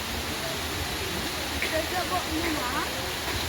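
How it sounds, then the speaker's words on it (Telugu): Steady rushing floodwater pours down continuously onto a stone slab, a broad hissing splash with faint voices buried underneath. "ఆ వాటర్ మొత్తము పైన స్లాబ్లో పడిపోతుంది"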